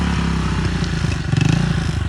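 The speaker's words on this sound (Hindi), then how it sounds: "और हमारी बाइक जो है ना ये आ गई है" A motorcycle arrives close by on a rough roadside track, its engine loud and throbbing with a pulsing, revving rhythm and some clatter, with no voices over it.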